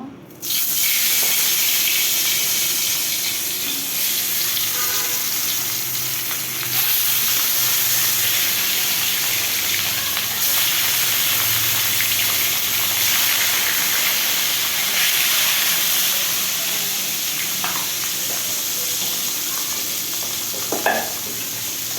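Rohu, catla and mixed fish pieces frying in oil in a home kitchen, a steady loud sizzle running unbroken throughout with occasional crackles and stirring clatter, no voices.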